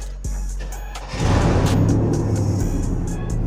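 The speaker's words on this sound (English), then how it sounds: "I'll pull the truck forwards" A truck's engine idles, then revs up as it pulls forward at a car build for an M104-engined Mercedes W201, with a steady loud drone and a few knocks and clanks.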